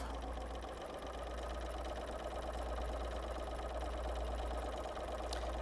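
Close, steady whirring of a sewing machine running continuously during free motion quilting, a low motor hum and rapid needle chatter with no pauses and no talk.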